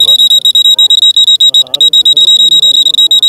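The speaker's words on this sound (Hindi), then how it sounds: "ये सिक्योरिटी अलार्म है" Vibration-sensitive security alarm on a student science exhibition model sounds a steady, loud high-pitched electronic tone, continuous throughout, while people talk nearby.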